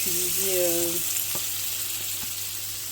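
Butter or oil heats in a pan on a stove as green beans with lardons are started, giving a steady, close, bright sizzling hiss that fills the clip, with a brief tonal squeal early on and a couple of soft clinks.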